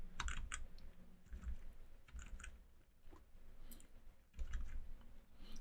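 Cursor keys on a computer keyboard are tapped in quick, uneven clusters, a series of close, crisp clicks with brief pauses between them and no talking.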